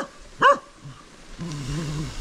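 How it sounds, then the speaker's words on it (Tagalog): A dog barks once, loud and fairly near, on a mountain bike trail, followed by a low, uneven growling rumble. "Matahol yung aso."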